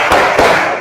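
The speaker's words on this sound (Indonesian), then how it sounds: "1, 2, 3. Tepuk semangat." A group of students in a classroom does a spirit clap, two or three sharp, loud, close claps in quick succession.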